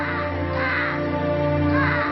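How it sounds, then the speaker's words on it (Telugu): A large flock of crows caws continuously in a film scene, the overlapping harsh calls loud and near with no speech over them. "బోల్డ్ అన్ని కాకులు వచ్చేసాయి"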